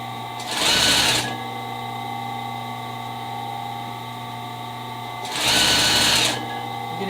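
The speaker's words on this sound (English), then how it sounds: "And we'll just start sewing." A sewing machine stitching a pillow runs in two short bursts of fast whirring, separated by a steady background hum, close and loud.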